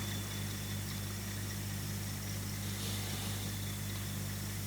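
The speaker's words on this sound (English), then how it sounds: "the engine is run for about 12 to 14 hours" A steady, droning industrial overhead crane engine runs after an overhaul, with a constant low hum and unchanging mechanical tone throughout.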